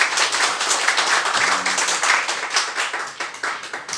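Audience clapping at a Korean rhythm dance gathering of fans and club leaders, a dense, steady round of many hands filling the room for the full four seconds with no speech over it.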